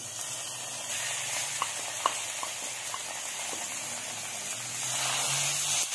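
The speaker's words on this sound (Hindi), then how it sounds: "चिकन को मैं हल्का सा इसके साथ फ्राई करने लगी हूँ।" Chicken sizzles in oil in a pan for bread pizza, a steady close crackle with a few small pops and stirring scrapes, swelling louder near the end.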